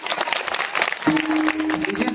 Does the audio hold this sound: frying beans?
no